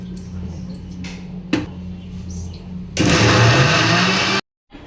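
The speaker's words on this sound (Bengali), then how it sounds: "একটা মিক্সারের জারে দিয়ে দেবো এগুলোর সঙ্গে" A kitchen mixer grinder whirs loudly as it blends chicken cutlet ingredients with a little water in its jar, starting after a few knocks and low hum, running steadily near the mic, then cutting off abruptly.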